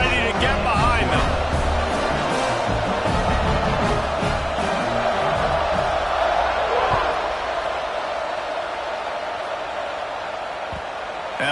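College football stadium crowd at kickoff of a Florida vs Florida State game, a broad roaring swell of thousands of fans that peaks early and slowly eases, with an announcer talking over it.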